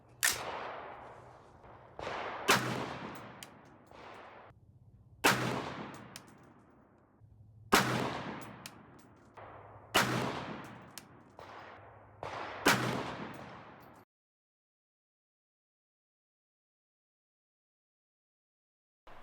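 Rifle shots from a light-barrelled gun firing Tula ammunition crack out six times at steady intervals a couple of seconds apart, each sharp and loud with a short ringing decay, then silence.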